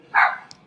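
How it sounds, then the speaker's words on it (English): A dog barks once, loud and fairly close, in a home setting, with a faint small sound shortly after and quiet otherwise. "I apologize for the barking dogs in the background."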